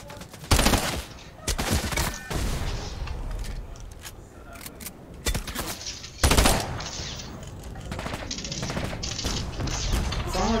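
Bursts of rapid weapon fire in a Fortnite match, with loud sharp volleys and single shots spread across the clip, set against faint game background sounds.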